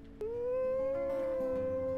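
A wolf howls in the video game WolfQuest, one long, rising, sustained tonal howl that starts abruptly and holds steady, loud and close over a faint low background hum.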